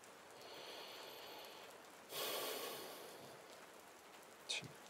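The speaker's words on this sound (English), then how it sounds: "I just want the rain to stop." Steady rain falls throughout, a soft continuous hiss that swells into a louder burst of heavier rain around the middle before easing off, with a brief sharp breath or snort near the end.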